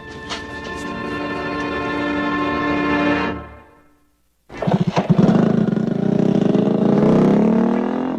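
A loud engine roars steadily for about three seconds, cuts out briefly, then revs back up with a throaty, rising growl.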